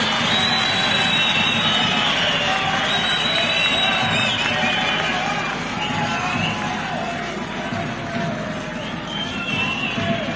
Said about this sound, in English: Can we clap for the members of parliament for the tremendous work that they do?